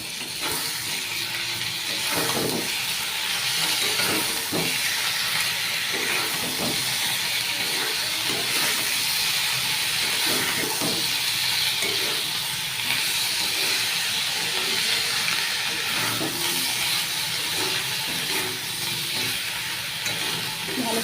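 Cumin, ginger and green chili paste sizzling in a hot pan, a steady, loud hiss that runs unbroken for about twenty seconds, with faint clinks of stirring underneath.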